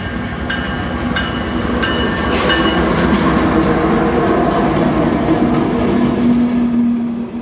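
A CSX freight train, Q741, rolls steadily past at close range as it takes the Southeast Y from the Tallahassee line to the S line near Baldwin, Florida, with a loud continuous rumble, rhythmic wheel clatter, and a sustained low tone.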